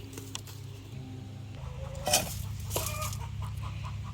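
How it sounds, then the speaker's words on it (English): Hens in a backyard chicken coop cluck and call steadily around laying time, a close chorus of repeated clucks with a louder squawking burst partway through. "You can hear someone laying an egg behind me."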